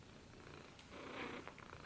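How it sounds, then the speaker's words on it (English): A house cat purrs softly and steadily at close range, a low, faint rumble that lasts for a couple of seconds. "She's purring because she's happy I'm home."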